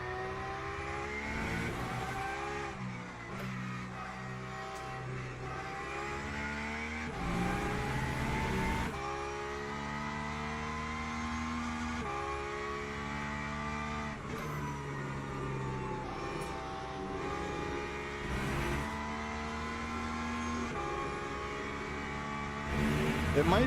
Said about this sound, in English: Oh, the 911 sounds so good.